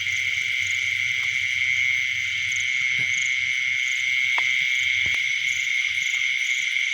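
Black and brown crickets chirp at night in a steady, dense high trill that carries on unbroken, with faint scattered rustles and clicks beneath.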